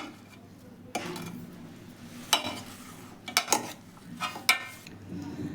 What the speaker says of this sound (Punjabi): ਆਪਾਂ ਸਾਰੀਆਂ ਚੀਜ਼ਾਂ ਚੰਗੀ ਤਰ੍ਹਾਂ ਦੇ ਨਾਲ ਮਿਲਾ ਲੈਣੇ ਆ